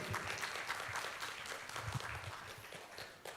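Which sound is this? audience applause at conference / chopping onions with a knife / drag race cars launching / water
audience applause at conference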